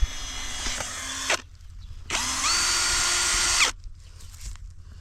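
A power drill whirs in two bursts, its high whine rising as it bites through drip irrigation tubing in a raspberry field, pausing briefly between runs, close and loud.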